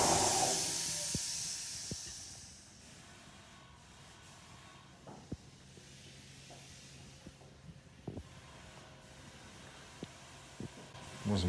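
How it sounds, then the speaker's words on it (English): An air compressor runs steadily while someone paints with it, giving a broad, continuous hiss that is loudest at the start, with scattered sharp clicks and knocks over the constant noise. "Hopefully you can hear me, the air compressor's going."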